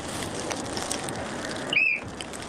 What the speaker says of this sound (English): Burt, blow your whistle and say transaction complete.